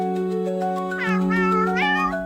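A cat meows loudly and close by in a sustained, wavering call that rises into a drawn-out whine, with no other sounds around it.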